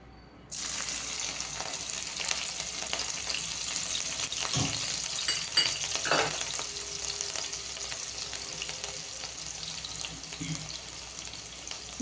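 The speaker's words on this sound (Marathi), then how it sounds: "आता मिरची आपण तळून घेऊयात" Green chilies fry in hot oil, a steady bright sizzle running nearly throughout, with a few soft clinks and scrapes near the pan.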